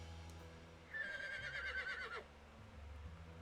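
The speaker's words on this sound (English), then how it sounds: "I hear a horse neigh" Horse neigh from the visual novel Code: Realize, a single loud, shrill whinny lasting about a second over a low ambient background, with no voices.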